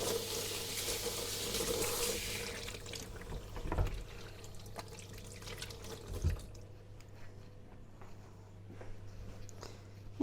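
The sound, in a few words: water running from tap while washing hands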